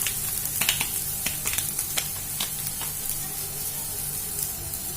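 A Maggi cutlet vegetable mixture sizzles in a pan on a low flame, a continuous soft hiss broken by scattered sharp crackles and pops, close and steady throughout.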